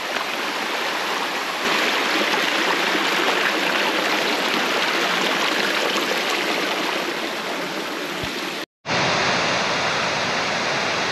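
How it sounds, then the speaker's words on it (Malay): Small forest stream near Lata Makau, Kuala Kubu Bharu, rushing in a steady broadband wash of water, loud and close, with a brief dropout near the end before the flow resumes. "sampai dekat anak sungai yang kelima"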